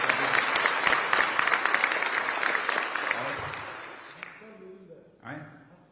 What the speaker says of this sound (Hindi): तालियां बजाकर हम लोग स्वागत करते हैं